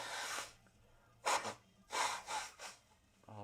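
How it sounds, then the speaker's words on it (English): Attempts to blow a blocked nose: four short bursts of forceful nasal breath, a brief one then three longer snorting blows in quick succession, close up over a low steady hum. "I just can't blow my nose for the love nor money."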